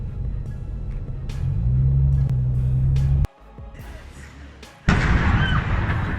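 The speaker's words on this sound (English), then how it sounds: "a second explosion at the factory sent debris shooting into the air" A heavy, deep rumble at a factory at night is broken by two sudden booming explosions, one sharp and cutting out, the next bursting into loud crackling noise.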